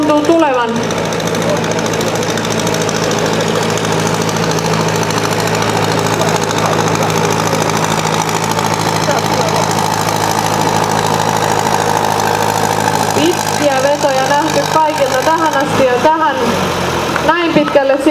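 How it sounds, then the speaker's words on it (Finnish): A competition tractor's engine roars loud and steady at a tractor pulling contest, a constant heavy drone with knocking harmonics that surges near the end as the load changes, with an announcer talking over it throughout. "Ja lähtölupa on annettu, ja nyt alkaa traktorin veto."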